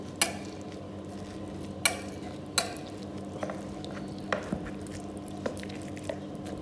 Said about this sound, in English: down the bread into the mixture just to make sure that all pieces are properly soaked